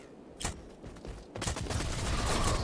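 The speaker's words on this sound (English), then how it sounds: "there were so many shooting me" Rapid automatic gunfire from several shooters in the online shooter video game Rogue Company, a short burst followed by heavier sustained volleys, fairly close and loud.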